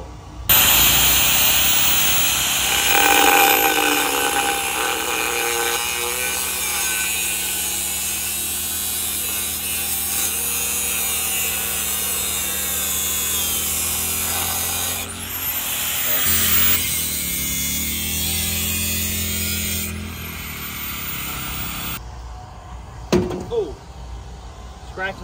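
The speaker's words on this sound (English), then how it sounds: "we're using a grinder, not like a cut-off wheel." An angle grinder cuts metal during engine work on a boat, a steady high-pitched whine with grinding that runs loud for most of the stretch, then drops away into a few sharp clanks near the end. Talk is heard underneath.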